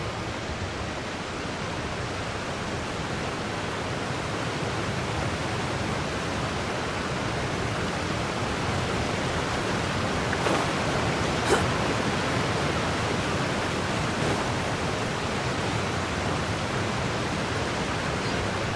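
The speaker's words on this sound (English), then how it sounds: "with the force of this waterfall, there's no way we're getting through" A roaring waterfall in a fantasy origami-kingdom game, a steady, loud broadband rush of falling water that continues unbroken, with only a couple of faint clicks on top.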